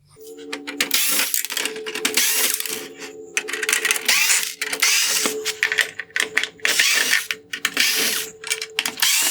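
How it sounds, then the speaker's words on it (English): Small T10 Torx screws being removed from the front bezel of a 2015-2019 Land Rover Discovery Sport xenon headlight on a workbench: busy close clicking, ratcheting and plastic rattling in dense bursts, with faint talk in places. "I will begin by removing the T10 screws holding on the front bezel."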